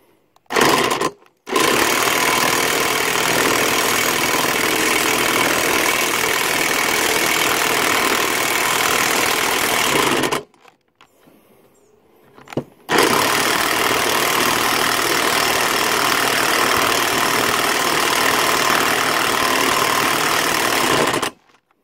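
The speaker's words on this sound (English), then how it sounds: "let's see if my Cheap Harbor Freight impact" A Harbor Freight impact wrench pulling a cylinder head stud from a Vortec 350 head, hammering in a loud, steady rattling burst, then a short pause before another long continuous burst.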